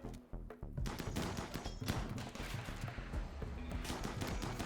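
A turret fires in the video game RimWorld, producing a dense run of rapid, sharp gunshot bursts with a brief gap near the start, then continuous clattering fire at moderate loudness, with no voices.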